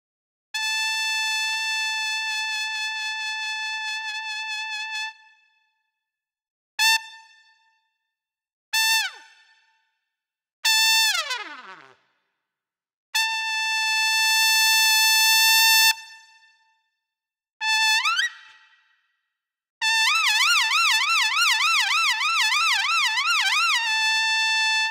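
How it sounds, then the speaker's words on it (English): Sampled lead trumpet from the Vintage Horns 2 library, played at loud and medium volumes: a long held note, short stabs, a steep fall-off, a quick rip upward, and a final fluttering shake, each sounding alone with gaps between. "Lead trumpet is an aggressive instrument designed to be used as the first chair in a trumpet section."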